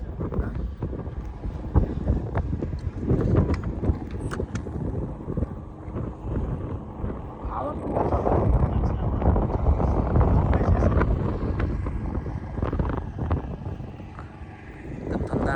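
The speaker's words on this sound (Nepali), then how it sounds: "ठन्डा चिसो हावा आएको छ नेपालमा जस्तै" Cold wind gusts across the Ras Al Khaimah hills, buffeting the microphone in rough, rumbling surges that swell through the middle and ease toward the end, with a voice speaking intermittently beneath the gusts.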